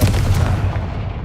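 Fire spell blast in a wizard video game, a loud booming burst with a rumbling low end that fades over about a second.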